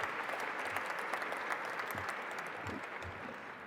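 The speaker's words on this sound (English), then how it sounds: "Again, another round of applause for our legends." Audience applause at a mentoring celebration event honoring legends, a continuous, moderately distant wash of many hands clapping with no talking over it.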